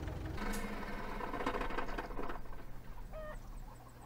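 A chicken clucks in the farming game Farm Manager 2018, with a few short clucks over a low engine hum from farm machinery and a brief chirp near the end.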